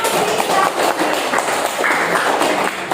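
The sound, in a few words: students clapping hands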